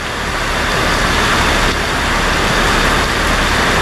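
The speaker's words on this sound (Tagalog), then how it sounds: "Lakas ng ulan." Heavy rain pours in a dense, steady hiss with no pauses, loud and close throughout.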